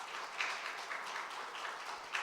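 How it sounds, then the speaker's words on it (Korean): Church congregation clapping in thanks during a Sunday service, a soft, sustained patter of many hands heard from a distance. "우리 박영배 집사님 위해서도 한번 우리 감사의 박수 한번 드리겠습니다"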